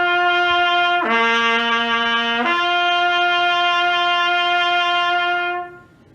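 Solo trumpet holds a steady tone, slurs smoothly down to a lower note, then slides back up and sustains before fading, played close and clear with no talking.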